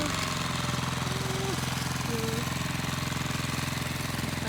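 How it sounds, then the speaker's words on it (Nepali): A tractor ploughing a field chugs steadily and close by, a continuous low mechanical rumble that holds the same pace throughout. "अहिले चाहिँ यहाँ जोत्दैछ ट्र्याक्टरले, जोतिसक्यो।"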